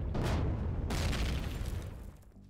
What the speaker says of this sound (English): I pressed three buttons and it blew up some kind of big old chest.